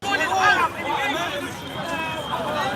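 Large outdoor crowd at Speakers' Corner, a dense babble of many overlapping voices chattering at steady loudness, with a few nearer voices standing out early on.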